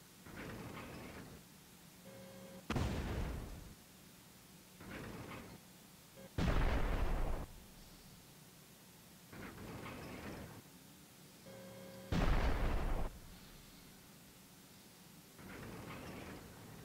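Artillery fire in a North African video game tank battle: heavy, booming blasts recur every few seconds at a steady pace, with softer distant thuds between them over a quiet background.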